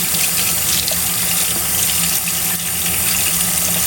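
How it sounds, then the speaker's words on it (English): Tap water runs steadily from a faucet while a makeup brush is rinsed beneath it, a loud, continuous splashing stream with no pauses and no voices. "I'm going to rinse it under the water again"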